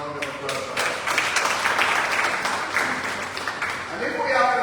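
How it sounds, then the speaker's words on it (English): An audience at an annual general meeting of a council on ageing applauds for several seconds, the clapping rising and fading beneath a speaker's voice. "give her a round of applause for that"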